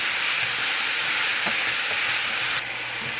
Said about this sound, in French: je vais frire tout le mélange seulement pour 1 minute